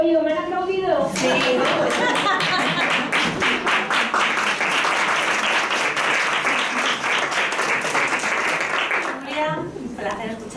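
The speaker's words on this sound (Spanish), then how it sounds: "¿Me han aplaudido?" An audience claps warmly and steadily in a lecture hall after a round-table talk, and the clapping tapers off near the end.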